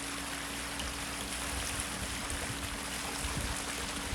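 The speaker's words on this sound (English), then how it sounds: "I'm using water hoses, so this shouldn't take too long." Water from garden hoses pours into an above-ground pool, a steady rushing splash with a constant low hum under it, continuous and fairly close, with no voices.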